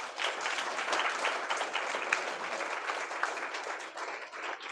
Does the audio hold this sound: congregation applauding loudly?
yes